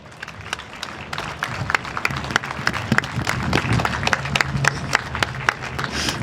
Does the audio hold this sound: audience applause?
yes